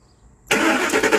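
A car engine started with a tester relay catches abruptly and settles into a loud, rough running roar close by, after a brief quiet lead-in.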